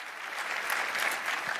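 Steady audience clapping in a conference hall at CPAC 2023, many hands together at moderate loudness. The applause holds evenly throughout with a few sharper individual claps standing out, and no talking.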